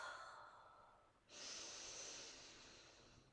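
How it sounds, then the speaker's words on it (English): Slow, long exhale during a yoga breathing exercise for digestion, a soft airy rush of breath that starts after a quieter inhale and fades gradually, close but faint. "Exhale."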